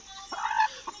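A single short cluck from a nearby chicken, followed by a quick softer note, heard against a quiet background.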